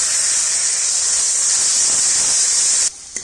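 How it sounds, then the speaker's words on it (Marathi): Tomato puree fries in a pan with a loud, steady, close hiss that runs unbroken, then cuts off abruptly just before the end, leaving near quiet. "तर इथे आपण टोमॅटोची प्युरी पण छान अशी फ्राय करून घेतलेली आहे"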